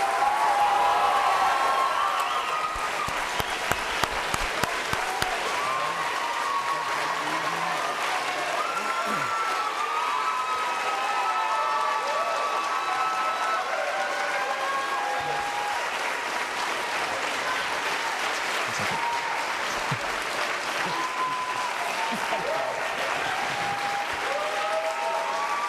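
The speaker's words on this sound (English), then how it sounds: "your chance to applaud the candidates" A live studio audience at a college gives a long, sustained round of applause for U.S. Senate debate candidates, a broad dense clapping that starts loud and holds for the whole stretch, with a faint murmur of voices beneath.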